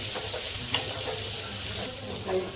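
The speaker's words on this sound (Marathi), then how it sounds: "थोडा वेळ आपण काही सेकंदाची ते वापर ठेवणार आहोत आपण थोडा कांदा परतून घेतले" Sliced onion sautés in a pan with a steady, close sizzle and a few soft stirring scrapes, alone without talk.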